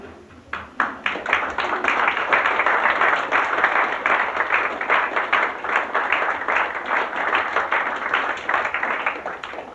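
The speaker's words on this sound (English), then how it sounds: "like to have models come out for one last round of applause." Audience applause for models at a cruise fashion show, building quickly into loud, dense clapping with distinct individual claps standing out, holding strong for nearly ten seconds before tapering at the end.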